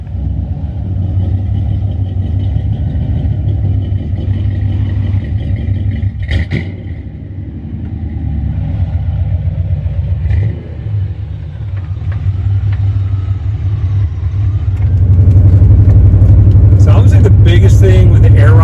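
A bagged Corvette with air ride runs at a steady, loud, low idle rumble, with a voice talking over it, then its engine note rises as the car pulls away.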